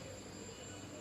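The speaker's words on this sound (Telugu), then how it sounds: "మన ట్రైన్ అయితే మెల్లగా స్టార్ట్ అయిపోయింది" The 17247 Dharmavaram Express rolls slowly on the outskirts of Tirupati, heard as a faint, even rumble of rail noise with no distinct clacks or squeals.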